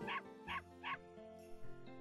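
A dog barking in the video game The Legend of Dragoon, three quick yapping barks in a row over a steady tonal game music background, moderately loud.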